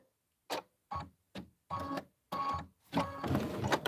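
An embroidery machine stitches applique pieces for a Kimberbell Enchanted Winter design, running in short bursts of rapid mechanical stitching separated by pauses, then a longer continuous run, close and fairly loud.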